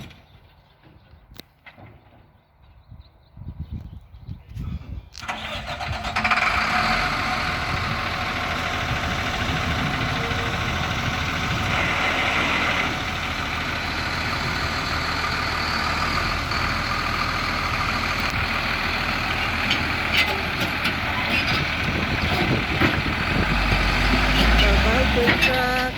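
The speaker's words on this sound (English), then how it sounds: "he's getting in the truck and about to leave" A crane truck's diesel engine cranks and starts after quiet moments of voices and small noises, then settles into a loud, steady idle with a deep low rumble that continues to the end.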